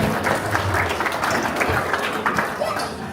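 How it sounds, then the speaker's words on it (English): A crowd claps steadily in warm, sustained applause, with scattered voices mixed into the dense patter. "So another round of applause for Shalom, from Samoa."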